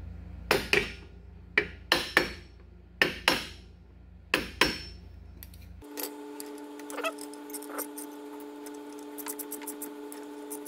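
Four sharp, evenly spaced hammer taps ring out close by as a stuck Club Car golf cart motor is knocked back into place. A steady mechanical hum with faint clicks follows.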